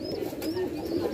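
A homing pigeon coos softly and steadily at close range after returning to its loft from a training flight, with the low murmuring calls running continuously through the moment.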